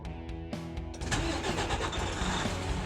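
A DT12-equipped truck engine cranks in short bursts, then catches and settles into a steady, loud, close idle rumble that runs to the end.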